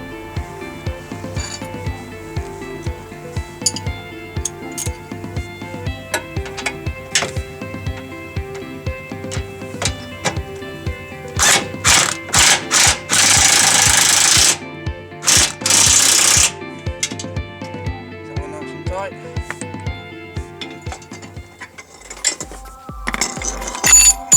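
Control arm bolts on a car's wishbone and ball joint being tightened with a wrench, a long run of close, sharp metallic clicks and ratcheting taps, with louder harsh bursts of metal noise partway through.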